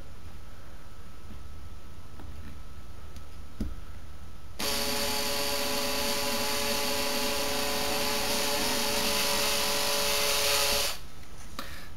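A power drill bores through a nylon blend RC bumper for an Arrma Vortex, its steady high whine starting abruptly after a quiet stretch and holding loud and close for about six seconds before cutting off.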